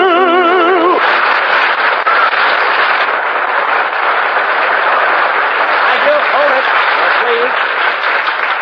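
A studio audience at a 1947 Milton Berle radio comedy broadcast applauds loudly and steadily for about eight seconds, following a brief burst of musical tones at the start.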